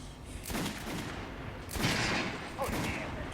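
Bursts of gunfire from the video game Metro 2033, shots aimed at an armored training mannequin, loud and repeated over a steady background, with a voice speaking alongside.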